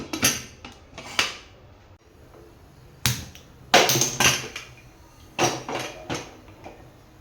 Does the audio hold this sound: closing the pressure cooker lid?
yes